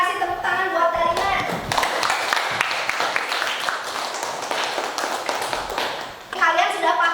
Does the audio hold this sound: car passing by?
no